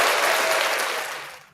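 A brief burst of loud clapping that holds for about a second, then fades out quickly into silence.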